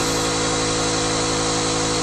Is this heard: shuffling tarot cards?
no